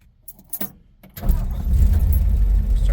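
A black-and-white 1956 Ford Fairlane Town Sedan in a shop: keys jingle briefly, then the engine cranks and catches within a second and settles into a loud, steady, rumbling idle.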